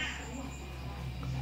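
A long-bodied Siamese-type cat perched on top of a refrigerator gives a short meow at the start, close by, mixed with a person's voice speaking in Thai.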